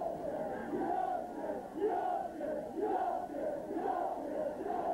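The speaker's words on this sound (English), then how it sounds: "Obviously very limited cheering from below us as Manning comes through" A rugby league crowd at a Doncaster v St Helens match chants and cheers from the stands in steady rolling waves, heard at a distance, with no nearby speech.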